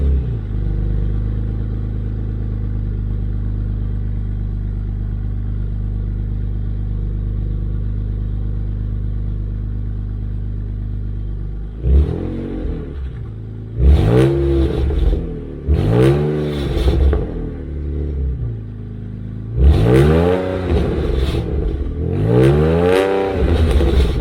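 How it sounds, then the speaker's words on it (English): A BMW 335i with an N54 engine idles with a steady low drone, then revs sharply several times, its exhaust rasping and rattling loudly with each burst. "Car sounds pretty good, apart from the rasp and the rattle"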